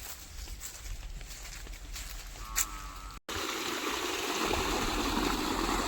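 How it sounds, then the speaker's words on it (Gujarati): Water running steadily in a lemon orchard, heard as a loud continuous rushing flow that starts abruptly midway after quieter outdoor background, close and unbroken. "પાણી ચાલુ હોય"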